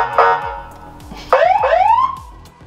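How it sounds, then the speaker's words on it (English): A loud electronic police siren from a car's siren box wails in rising, sweeping tones, with a short whoop followed by two longer upward sweeps that trail off. "it does still have the siren box in it that does work."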